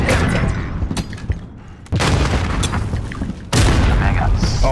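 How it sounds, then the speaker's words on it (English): Frag grenade explosions in Call of Duty search-and-destroy play: two loud, sharp booms a couple of seconds apart, each followed by rumbling debris, amid background game noise and chatter. "guy threw two frag grenades"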